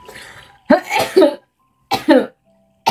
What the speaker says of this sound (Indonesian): maaf aku agak batuk ya